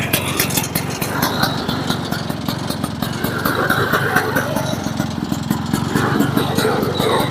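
Barn-find Boa Ski snowmobile engine idling steadily up close after sitting for years, a rough, buzzy small-engine putter with a continuous throb throughout and no pauses.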